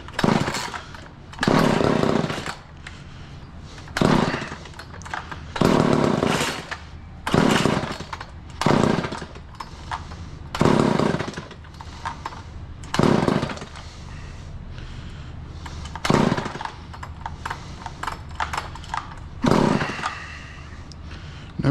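An old Craftsman engine sputters and revs in repeated short bursts, loud and close, each surge dying back between pulls.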